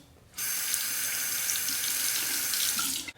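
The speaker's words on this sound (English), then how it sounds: "Rinse." Tap water runs steadily into a sink to rinse a straight razor during a shave, one continuous close gush of about three seconds that starts and stops abruptly.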